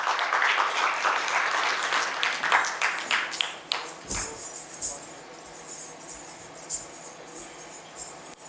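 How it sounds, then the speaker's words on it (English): Audience applause at an HR conclave on impact hiring in Indore, welcoming a performer: dense clapping at moderate level for about four seconds, then thinning into scattered, fading claps with a few isolated hand taps. "Ladies and gentlemen, let's welcome her with a round of applause."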